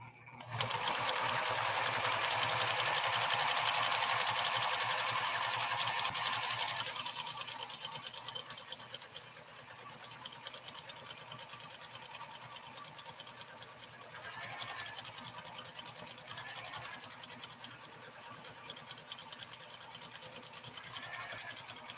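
PFAFF 360 sewing machine stitching steadily, a loud continuous whirring drone at first that eases to a lower, even hum with slight swells, running alone without talk.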